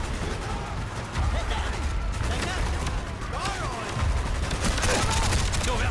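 Continuous battlefield gunfire in Call of Duty Black Ops, overlapping shots and explosions forming a steady loud din, with radio-style voices calling out over it.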